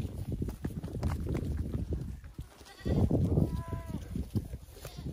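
Goats eating pumpkin pie, several bleats ringing out over wet chewing and shuffling nearby, with a long wavering call in the second half.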